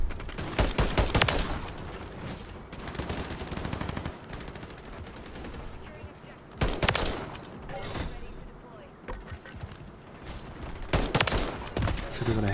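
Dense Call of Duty gunfire, with rapid automatic bursts and volleys of shots in several loud clusters over a continuous battle din, voices talking at times.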